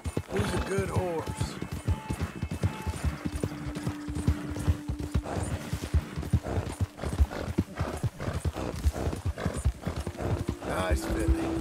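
Close, steady clip-clopping hooves from a horse in Red Dead Redemption 2, a quick even gait with a brief neigh near the start and another near the end.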